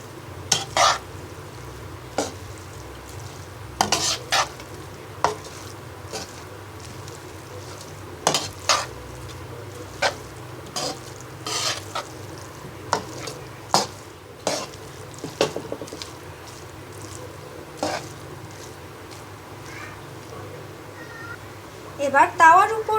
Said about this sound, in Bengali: এবার ভালো করে নেড়ে নিব।